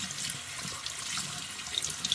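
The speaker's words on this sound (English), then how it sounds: "just rinse it under some warm water" Warm tap water runs steadily from a faucet while jewelry is rinsed in a sink, a continuous close hiss of flowing water with no speech.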